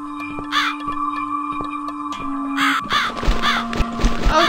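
Several harsh caws from a crow in the horror adventure game The Cat Lady, repeated in an irregular series over a steady droning game soundtrack, fairly close and clear.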